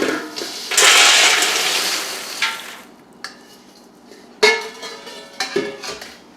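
Popcorn snack mix with cereal is stirred in a bowl: a dry rustling churn of loose pieces, followed by a few sharp clinks and knocks of a utensil against the bowl.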